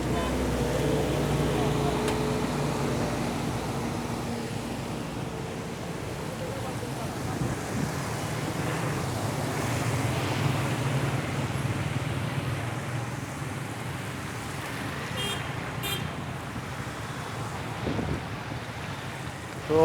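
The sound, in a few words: waves of flooded rainwater pushed by passing cars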